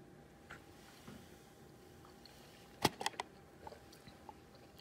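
A fresh dandelion flower chewed close to the mouth, a few soft wet bites and a brief cluster of crunchy chews in the middle over faint background noise.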